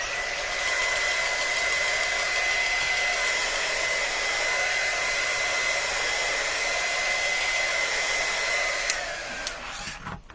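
Loud, steady whoosh of a handheld drying tool blowing air over a stained craft board, holding a constant whine for about nine seconds before cutting off with a brief clatter.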